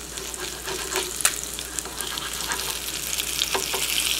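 Parmesan-crusted swai fish fries in a pan with a constant loud, close sizzle and crackle, plus a few sharper pops and a light scrape, with no talking.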